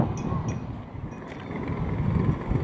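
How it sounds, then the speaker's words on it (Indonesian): Strong wind buffets the microphone at a hilltop beach viewpoint at Bagedur Beach in Lebak, Banten, producing a steady low rumble that swells and gusts without letup and has no voices over it. "anginnya cukup kencang sekali di sini ya"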